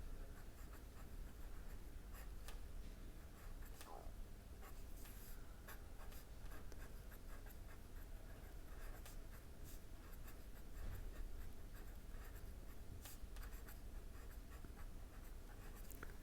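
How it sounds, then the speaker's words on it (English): Handwriting during a lecture on Verilog modeling, steady scratchy strokes of pen on paper or board continuing throughout, close and fairly quiet with no talking. "I am just writing down, then I am explaining."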